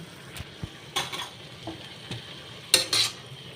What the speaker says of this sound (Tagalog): At ilalagay ko na pala guys yung udong